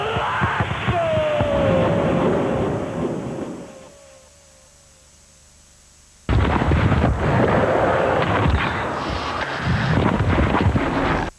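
Fireworks explode at Rome's Olympic Stadium during a Lazio versus AC Milan football match, producing dense rumbling bursts and crackles. The noise drops away to near quiet for a couple of seconds, then resumes just as loud.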